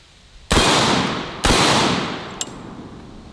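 A Typhoon F12 semi-auto 12-gauge shotgun fires two rounds of Black Aces buckshot about a second apart. Each shot is a loud, sharp blast with a long echoing decay, followed by a faint click.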